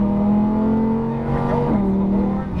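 Lamborghini Huracan engine pulling hard on a race track coned course, a steady loud drone rising in pitch, dipping briefly as it shifts, then climbing again, with a faint voice under it.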